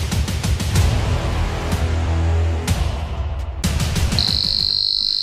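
Piezo buzzer salvaged from an arcade machine, driven by an Arduino, chirps loudly in a rapid insect-like trill, then settles into a steady high-pitched tone near the end, with no talking.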